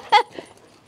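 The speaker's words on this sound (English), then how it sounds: "That's my dog, Zuki," A dog lets out one short, sharp yip followed by a softer whimpering note, close by and otherwise quiet.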